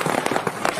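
A car driven over a balloon to mimic a firecracker bursting for a film sound effect gives a quick cluster of loud, sharp crackling pops, several close bursts packed into under a second.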